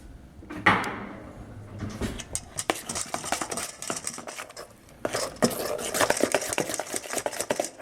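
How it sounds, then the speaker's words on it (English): Shrimp ball mixture being stirred with seasonings and cornstarch in a bowl, with irregular clinks and taps of a utensil against the dish and soft wet mixing sounds, busy and close, starting and stopping. "You mix it for a few minutes, maybe 1 or 2-3 minutes."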